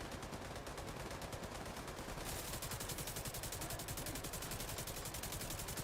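Rapid automatic gunfire in The Division 2 video game, a continuous stream of fast shots at low volume, steady for several seconds without pause or speech.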